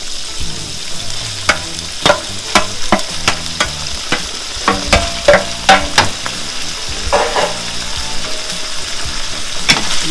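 Rice tipped into a pan where shrimp and meat are frying, then stirred: steady sizzle throughout with repeated sharp scraping and clacking strokes of a utensil against the pan, close and fairly loud, with no talk.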